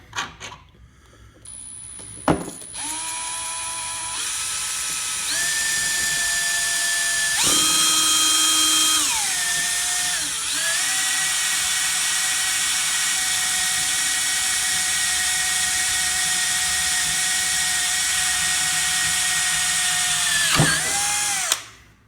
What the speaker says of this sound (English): And we'll drill the other one while we're at it.